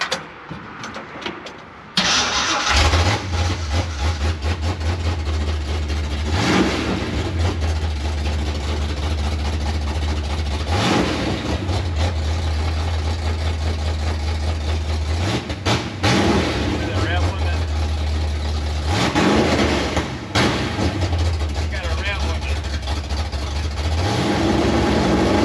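An 1980s Ford truck engine cranks and catches, then settles into a deep, rumbling idle. It is revved several times in regular surges, loud and close, with voices talking over parts of it.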